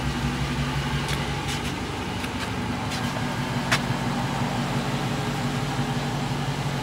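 Steady low rumble of a Dodge Charger R/T with a V8 HEMI idling nearby, a continuous drone with a few faint clicks over it.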